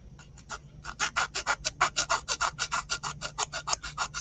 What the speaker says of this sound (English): sand that little edge if I missed one